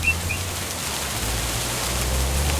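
Rain in a farming video game set on a Montana farm falls as a steady, even hiss of drops, constant and fairly loud, with a faint low hum beneath and brief chirps near the start.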